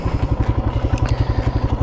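A Royal Enfield Himalayan motorcycle idles close by at a junction, its single-cylinder engine thumping in a steady, even rhythm with light mechanical clatter and no voices.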